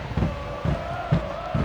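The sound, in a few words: Cincinnati stadium crowd at a soccer match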